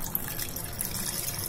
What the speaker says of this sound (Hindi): तो ये पूरा मैं पानी डाल देती हूँ इसमें